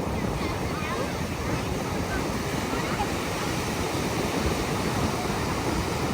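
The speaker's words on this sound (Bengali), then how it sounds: "আগে জানার চেষ্টা করাচ্ছে কিন্তু ঢেউটাই আসছে না।" Sea surf rolling onto Puri's Swargadwar beach, a dense continuous wash of breaking waves with wind buffeting the microphone and no pause in the roar.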